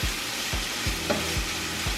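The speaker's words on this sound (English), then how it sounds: "You can hear this corned beef cooking." Corned beef hash sizzles steadily in a frying pan, with five or so scraping stirs sweeping through at a regular pace, close and fairly loud, and no talking.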